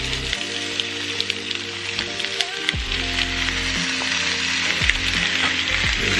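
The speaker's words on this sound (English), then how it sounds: "Just gonna sear these." Meat sears in a hot pan for a watercress boil up, a steady loud close sizzle and crackle that runs throughout with occasional clinks, and no talking.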